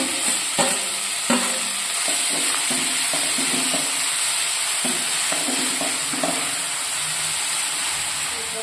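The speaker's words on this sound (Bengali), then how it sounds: "কাঁচা লঙ্কা দিলাম, দিয়ে ভালো করে এবারে নেড়ে দেবো" Green chillies and grated paneer stirred in a frying pan, a constant loud sizzle broken by scraping knocks of a spatula against the pan.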